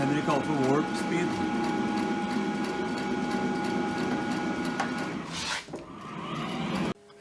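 A Powell metal planer rough-cuts an HKA36 Kingway straightedge, its steady machine drone and cutting noise running loud and continuous with harmonic whine, a sharp scraping burst near the end before the sound cuts off abruptly.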